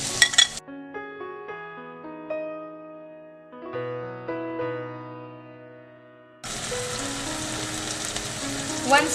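Finely chopped tomato going into a pan of softened onions, with a short burst of sizzling, then a melodic music interlude, then loud, steady frying returning.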